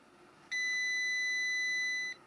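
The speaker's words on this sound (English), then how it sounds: "The multimeter has a nice clear continuity buzzer when doing a continuity test." An RS Pro IDM 61 digital multimeter sounds its continuity buzzer as a single steady, clear high-pitched beep lasting about a second and a half, close and loud, with no talking.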